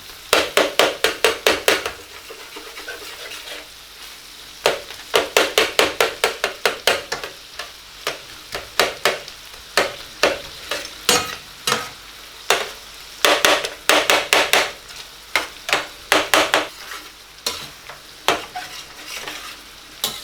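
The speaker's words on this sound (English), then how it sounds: "you want to start crushing the tomatoes like this and mixing it into the karahi" Tomatoes crushed and stirred in a karahi, a spoon striking and scraping the metal pan in rapid rhythmic bursts of clatter separated by short pauses, over a low sizzle.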